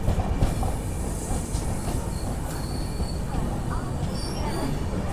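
Charminar SF Express arriving at Nellore station, a steady broadband rumble of rolling coaches with faint high wheel squeals and clatter, heard up close without a break.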